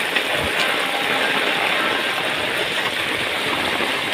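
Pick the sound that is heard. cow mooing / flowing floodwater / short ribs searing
flowing floodwater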